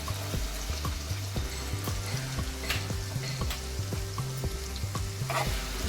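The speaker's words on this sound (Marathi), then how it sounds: "आणि आता कांदा टाकणार आहोत" Chopped onion and garlic sizzle steadily in hot oil for the tempering of a village-style spicy mutton curry, a dense, continuous frying hiss with a low rhythmic thumping underneath and no talking.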